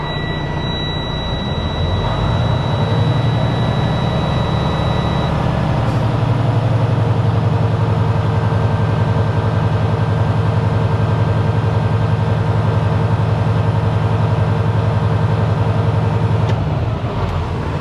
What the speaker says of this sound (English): That right there is giving it some throttle.